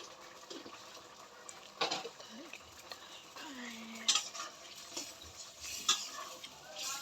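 Fish and vegetables go into a pan with soft frying, scattered metal clinks and scrapes of stirring, quiet and intermittent with a few louder utensil knocks.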